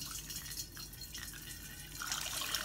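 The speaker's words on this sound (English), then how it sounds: "So we'll just pour it in here" Homemade grain moonshine pours into a glass jar, a steady liquid trickle with small drips that grows fuller and brighter toward the end, close by with no talking.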